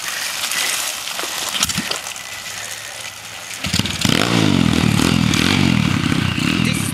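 A pit bike's motorcycle engine starts with clatter and scraping as the rider pushes off, then revs up into a loud, sustained buzzing drone close by.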